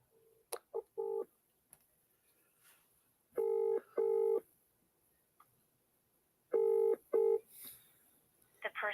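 Telephone keypad dialing tones beep in short paired bursts, several clusters separated by pauses, clear and moderately loud over a quiet line with faint clicks.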